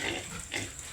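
Backyard pigs grunt and squeal faintly nearby in two short bursts, with a soft background hiss.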